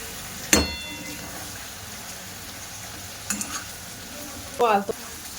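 Raw mango pickle with spices sits in a pan under a faint background hiss, with a few separate clattering stirs of a spoon against the metal.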